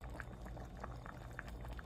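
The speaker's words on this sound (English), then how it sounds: "I'm going to now turn the temperature to low since this is boiling" A pot of cabbage with smoked ham hock at a steady rolling boil, with continuous close bubbling and scattered popping bursts over a low simmering rumble.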